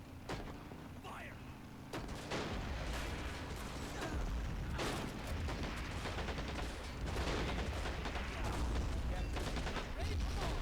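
Battle sounds from the WWII real-time strategy game Men of War: Assault Squad 2, Operation Overlord: dense, continuous gunfire with booming artillery blasts and clattering mechanical noise, loud and sustained, with shouted voices over the fighting.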